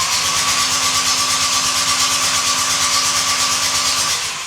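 A VW 1.9 TDI engine cranks steadily on its starter to build oil pressure, a loud, continuous rhythmic churning with no firing, heard close up and alone.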